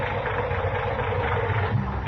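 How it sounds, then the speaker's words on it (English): A tired old car engine idles at a gas station in a radio drama, a low steady rumbling drone with a slight uneven throb and no voices over it. "that engine of yours sounds like real tired iron"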